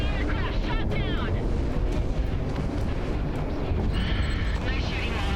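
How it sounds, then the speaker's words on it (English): An enemy aircraft is shot down and explodes in the combat flight game Project Wingman, a loud rumbling blast over continuous engine roar and battle noise, with a voice speaking over it. "Enemy aircraft shot down."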